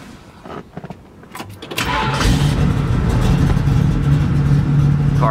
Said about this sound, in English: Car sounds incredible.